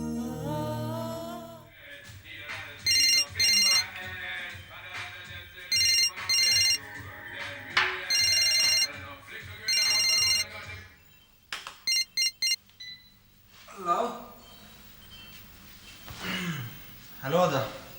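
A telephone rings in repeated bursts of bright electronic tone under soft background music, inside a home, with someone speaking before the rings start and again after them.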